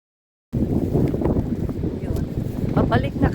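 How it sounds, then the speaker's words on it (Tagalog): Strong wind buffeting the microphone outdoors, a loud continuous low rumbling roar starting abruptly after a moment of silence, with a voice faintly mixed in beneath it. "Malakas ang hangin."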